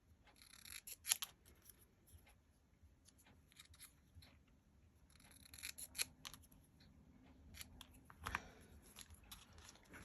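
Scissors cutting a craft gift bag pocket, heard as a few faint, brief snips spaced several seconds apart in a quiet room with soft rustling between them.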